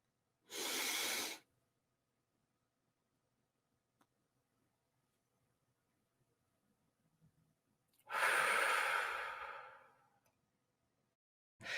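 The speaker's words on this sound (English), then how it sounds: "we're breathing in for 4, we're holding it for 4, yeah, and then we're releasing it for 4" Slow deep breathing during a meditation exercise: one long breath, a silent pause of several seconds, then a longer, louder exhale, all close and with no talk.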